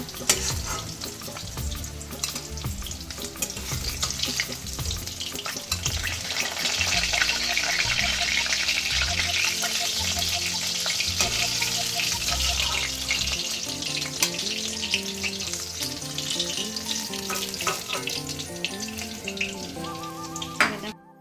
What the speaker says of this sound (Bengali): মাছটা আমি একটু টাইম ধরেই ভেজে নিলাম